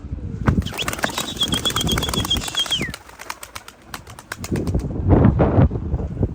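Tumbler pigeon taking off with a burst of rapid wing flaps, close and loud, followed by quieter flapping and another flurry of wingbeats, with a brief high whistle-like tone early on and no speech.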